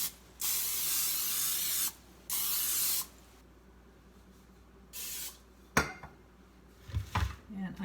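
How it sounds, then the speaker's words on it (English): Cooking spray hisses from an aerosol can onto a pizza pan in short bursts, with two long sprays, a brief third, then light clatters of the metal pan at the end. "And I sprayed that with cooking spray."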